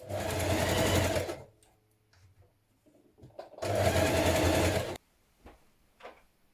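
A sewing machine stitches a hoodie seam with a 1.5 cm seam allowance in two loud, steady bursts of rapid needle chatter about a second and a half each. Between them come quiet handling sounds and faint clicks, with no talking.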